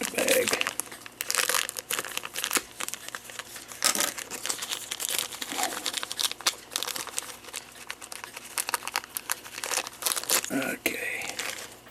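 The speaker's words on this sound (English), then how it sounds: "maybe it's just easier to cut the bag" A plastic bag is cut and torn open while repairing a cuckoo clock, giving close, loud bursts of crinkling, rustling and tearing plastic in uneven spurts throughout.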